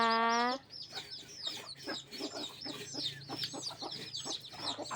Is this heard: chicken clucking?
yes